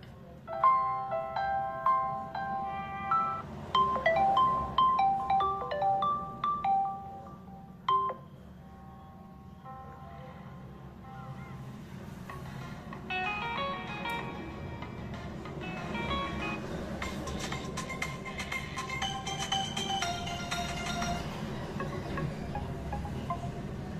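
Built-in ringtone playing from the single bottom speaker of a ZTE Blade V50 Design phone, a gentle melodic chime phrase in the first seconds, then a thinner tinkling tune over steady background wind noise.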